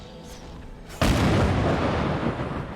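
Enemy bomb skills in the Guild Wars video game go off with a heavy boom that erupts abruptly after a quieter stretch, then stays loud and roaring to the end.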